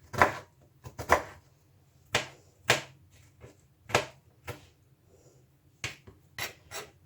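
A knife taps sharply against a cutting board in irregular bursts while dicing pear, a dozen or so close chopping knocks with brief pauses between them.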